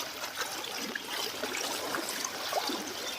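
Floodwater running through a village flooded by heavy rain in Itadara, Gujarat, near a school and a lake, makes a steady broadband rushing trickle with no talk.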